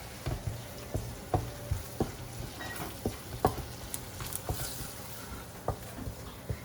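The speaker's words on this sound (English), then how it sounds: "Now we're going to stir it up." Chicken curry with curry powder and masala sizzles in a pot while a spoon stirs it, with a constant low frying hiss broken by irregular scraping knocks and taps from the stirring.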